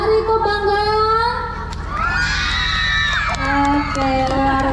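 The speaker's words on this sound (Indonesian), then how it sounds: "saya ingin lebih keras lagi tepuk tangannya." A crowd of children at a school dance performance cheers and shouts, with high, voiced yells and whoops rising and falling and some faint clapping underneath, loud and close.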